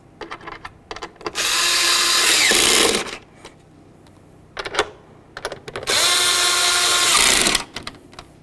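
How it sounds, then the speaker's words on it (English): A power drill runs in two steady, loud bursts of about two seconds each, snugging tail light mounting bolts on a 2002-2009 Chevrolet Trailblazer, with small clicks and handling noises between them. "Align your mounting bolt holes, start those in and snug them up."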